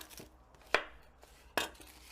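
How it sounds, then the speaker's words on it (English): A knife slicing onions on a board: a few sharp, well-spaced chops with quiet gaps between them, close up and alone, with no talking. "Meanwhile, I'm going to cut the onions."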